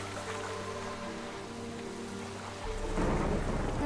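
Steady rain pours down in The Witcher 3 with a low rumble of thunder rolling underneath, swelling into a louder, rougher wash of rain and thunder near the end.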